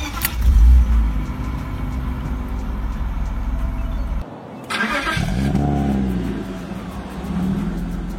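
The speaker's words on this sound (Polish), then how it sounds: "Charakterystyczna, jedwabiście pracująca rzędowa szóstka to jeden z najpiękniejszych dźwięków, jakie można usłyszeć spod maski samochodu." A BMW M50/M52 inline-six engine cranks briefly, fires and settles into a smooth idle, loud and close, with a short restart and rev partway through.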